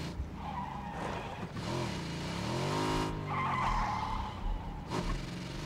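Car tires skidding and squealing in the game PUBG (PlayerUnknown's Battlegrounds), with a continuous engine drone and sweeping tire screech across several seconds, loud and close, no talking.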